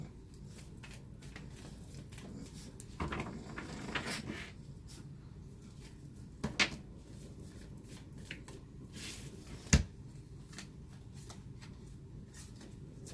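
Tarot cards are shuffled by hand, giving a quiet, continuous papery riffle and patter. A few sharper slaps and flicks come through as cards are set down and drawn.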